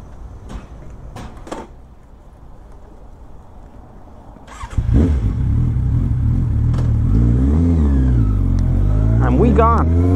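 A Suzuki GSX650F motorcycle: a few quiet knocks and clicks at first, then the engine bursts into a loud, close roar, revving up and climbing in pitch through several gear changes while accelerating hard from 0 to 60.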